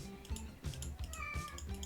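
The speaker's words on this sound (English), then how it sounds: "Oh, that's my cat meowing." A cat meows several times in quick succession, fairly close, with short rising and falling cries over a quiet background.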